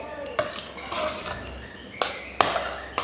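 A utensil stirs a thick jaggery pongal mixture with cardamom, fried cashews and raisins in a pot, with soft squelching strokes and several sharp metallic clinks against the rim, close and fairly quiet.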